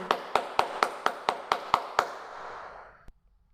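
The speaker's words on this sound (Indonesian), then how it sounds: "Tepuk tangan." A classroom group claps in unison, roughly nine sharp, evenly spaced claps in quick rhythm, then a pause and one last stray clap as the room settles.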